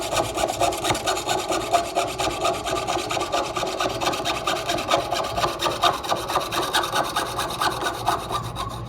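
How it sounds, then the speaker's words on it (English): A hand saw cuts metal prongs in quick, even back-and-forth strokes, a close, bright rasping with a steady rhythm of about two strokes per second, heard alone without talk. "Now when I'm sawing, I'm actually cutting a little past the edge of where my object is."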